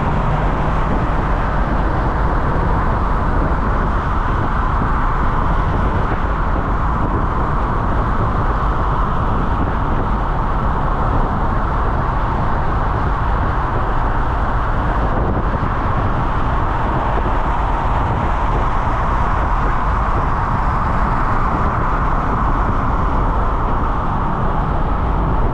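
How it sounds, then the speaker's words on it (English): Steady, loud road and wind roar from inside a 2025 Ford Mustang cruising on the highway, a constant wash of tyre and engine noise with windows partly down and no speech. "Now you guys will experience even more noise because we're gonna go on the highway"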